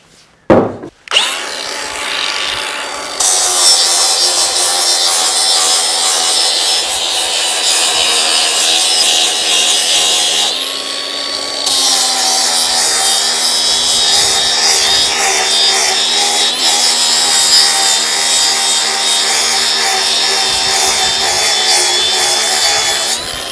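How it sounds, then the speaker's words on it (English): Power sanding of a carved maple handle for a splitting axe, a loud continuous whirring hum with grinding texture running almost the whole time after a brief knock at the start, briefly dipping midway, no speech. "Sanded down to 120 grit."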